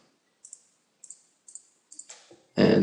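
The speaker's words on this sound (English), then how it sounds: "Control V on your keyboard to make a copy of it." Several sharp computer keyboard clicks, evenly spaced, as keys are pressed for copy and paste shortcuts in Cinema 4D R12, followed by a sudden loud burst of broadband noise at the end.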